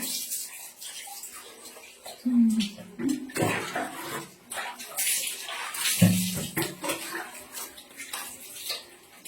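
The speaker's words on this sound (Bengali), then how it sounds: "আমি গরম জল করে চান করছি।" Someone bathes by pouring boiled, iron-rich hot water over themselves in Murshidabad, with uneven splashing bursts and trickling runoff, close and fairly loud, and a few clinks from a vessel.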